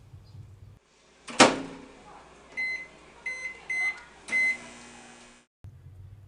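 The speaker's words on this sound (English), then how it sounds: "I decided to microwave the meatballs." A microwave door clunks shut, a few electronic beeps sound, then the oven hums steadily while heating meatballs before a final beep and the door opening.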